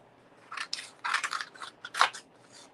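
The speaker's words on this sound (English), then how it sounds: "So I'm just going to cut out a few of these." Scissors snipping out stamped paper pieces for a greeting-card project, a string of short crisp cutting bursts at close range with brief pauses between them and no talking.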